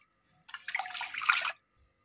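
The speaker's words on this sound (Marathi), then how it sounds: "मी आणखीन एका पाण्याने धुणार आहे" Soaked lentils are rinsed in water at home, one short splashing swish of about a second, close and clear, with silence before and after.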